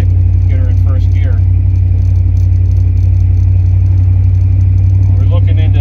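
A 1968 Camaro with an unsynchronized first gear idles loudly and close with a deep, steady rumble as the throttle is blipped to get it into first, while someone talks over the engine.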